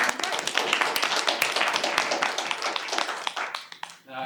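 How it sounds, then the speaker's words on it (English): An audience at a real estate and entrepreneurship workshop applauds the speaker, dense steady clapping filling the room for several seconds before tapering off quickly at the end. "let's just give him a round of applause"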